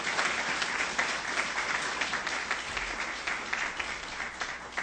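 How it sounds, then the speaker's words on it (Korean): Applause for the organizers at a Korean church fellowship gathering, a dense, even patter of many hands clapping, moderately loud and sustained without pause, with no voices over it. "우리 임원들을 향해서도 크게 좀 박수를 격려해 주시죠."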